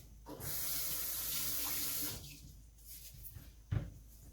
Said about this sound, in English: I got to wash my hands quick.